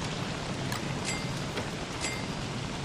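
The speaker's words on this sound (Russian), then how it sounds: "Как я обожаю лягушачий дождь." Frog rain pattering down in the video game Don't Starve, a steady wash of rain with faint scattered splat-like taps throughout, no talk.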